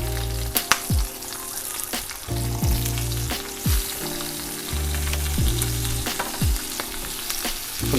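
Butter sizzles and crackles steadily in a hot cast iron pan, with a few sharp clicks and clinks from a utensil scattered across the frying.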